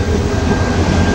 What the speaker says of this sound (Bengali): বন্ধুরা, আমাদের মেঘনা এক্সপ্রেস চলে এসছে।